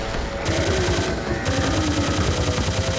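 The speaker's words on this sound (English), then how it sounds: "let's take control of this minigun turret and fight off all the enemies here" Rapid, continuous minigun turret fire from the video game Serious Sam 2, a dense mechanical rattle of shots running steadily and loudly throughout without pause.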